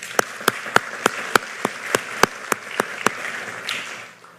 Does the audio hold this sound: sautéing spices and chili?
no